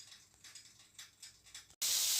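Bell peppers and onions hit a hot pan with no fat for fajitas, soft intermittent hissing pulses building into a sudden loud, sustained sizzle near the end.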